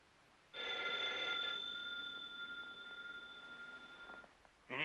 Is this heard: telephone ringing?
yes